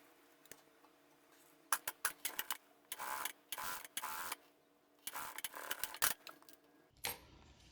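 Sewing machine stitching a seam on a handmade bag, bursts of rapid mechanical clatter in short runs separated by quiet gaps, close and fairly soft.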